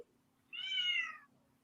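A domestic cat gives a single drawn-out meow, clear and fairly close, rising and then falling away, with quiet surroundings before and after.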